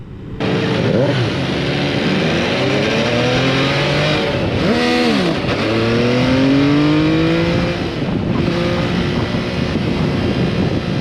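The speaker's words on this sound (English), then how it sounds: "Rev it and go." An MV Agusta motorcycle on a hot demo day revs repeatedly and accelerates away, the engine note climbing and falling in loud, close sweeps that fill the whole stretch.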